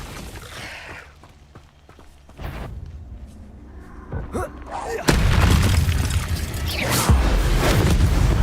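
A Confringo fire spell from Hogwarts Legacy hits near a giant spider and sets off a loud blast. A sharp boom comes about midway and is followed by a sustained roaring rumble. A voice speaks beforehand.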